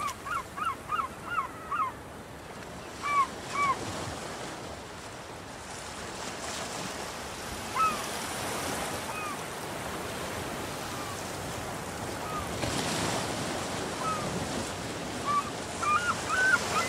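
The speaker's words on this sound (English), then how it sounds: "The water is warm and frothy as it breaks on the shingle." Waves break on a shingle beach and wash steadily in a broad hiss of surf, with geese honking in short bursts, loudest at the start and near the end.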